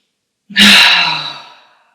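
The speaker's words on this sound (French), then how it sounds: "3 grosses respirations ensemble en faisant du bruit" A person takes a deep, noisy breath during a relaxation exercise: one close, loud, airy breath that swells quickly and then fades slowly, with no talking.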